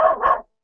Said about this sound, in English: Excuse my dog barking in.